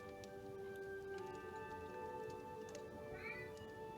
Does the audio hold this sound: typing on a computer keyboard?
no